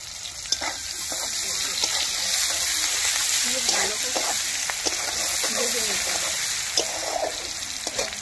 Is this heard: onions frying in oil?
yes